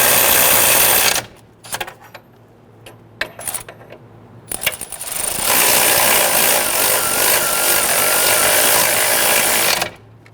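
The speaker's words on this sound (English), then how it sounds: "Snug down our caliper bracket bolts." A power tool on a 2008-2013 Infiniti G37 front hub runs loud and close, snugging the caliper bracket bolts in two long whirring bursts separated by metallic clinks and taps.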